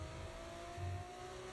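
An F2 race car engine in a racing video game, a quiet, steady high-revving whine holding a sustained pitch, heard alone without talk.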